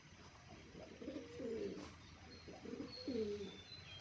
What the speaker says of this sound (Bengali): আমার বাড়ির বুড়ো কবুতর কালো গলা গিরিবাজ